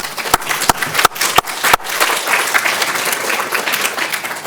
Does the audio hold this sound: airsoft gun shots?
no